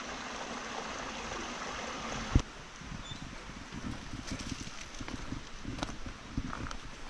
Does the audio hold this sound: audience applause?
no